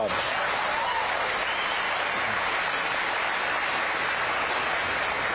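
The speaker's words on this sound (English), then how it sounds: "The mention of the execution of 234 people drew applause." A crowd at a talk on stopping the execution of Troy Davis applauds loudly and continuously, a dense wash of clapping that holds steady throughout.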